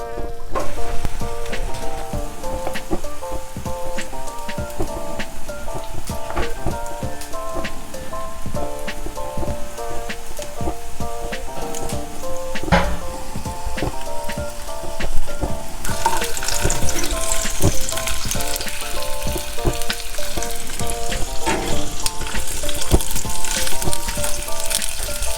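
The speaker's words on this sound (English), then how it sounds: "I'm going to put the sausage in first so I'll know when the skillet gets hot and how hot it's getting." Sausages fry in a hot skillet during emergency power-outage cooking, giving a steady, dense sizzle with popping and crackling throughout that grows brighter and hissier in the later part, with no talking.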